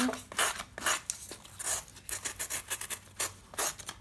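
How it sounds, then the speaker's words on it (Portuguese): Sandpaper rasping against a 17 cm Funko Sulley figure from Monsters, Inc. as it is rounded off, in quick rhythmic close-up strokes with brief pauses and no speech. "com a lixa, eu vou deixar bem redondinho."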